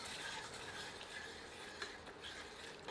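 Almond milk being stirred into a curry masala in a pan for a Mughlai paneer curry, a faint continuous wet scraping and soft sizzle with a small clink near the end.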